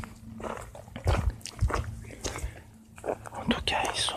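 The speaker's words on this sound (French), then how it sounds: "un chien qui aboie dans un hameau, dans un camp de voyageurs" A dog barks in a hamlet near a travellers' camp, a few short barks sounding out over nearby whispered speech and soft shuffling.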